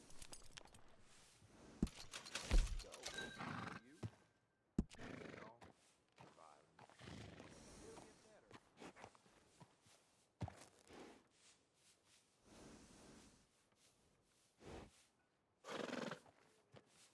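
Horse neighs and whinnies with clip-clopping hooves inside the Red Dead Redemption 2 video game, loud bursts separated by quiet gaps, with in-game voices speaking at times.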